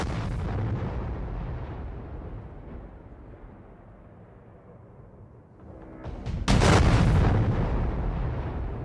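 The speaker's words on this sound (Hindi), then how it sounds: "2024 का सबसे बड़ा धमाका हुआ है।" A large non-nuclear bomb test explosion: a rumbling, roaring blast fades to a low murmur, then a second sharp, loud boom erupts and rolls on with a heavy sustained roar.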